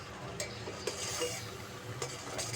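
Ginger sugar syrup cooks over a low flame while a utensil stirs it. Soft scrapes and small clinks recur over a gentle, constant bubbling hiss, close by and quiet.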